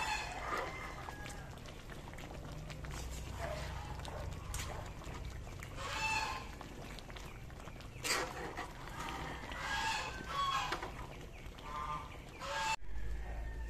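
A noisy hen laying eggs gives loud, harsh squawking and cackling calls in irregular bursts, close by, over a low background rumble.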